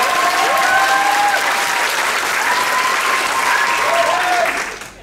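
An improv theatre audience at a festival applauds steadily, dense clapping with a few whistles over it, tapering off at the very end.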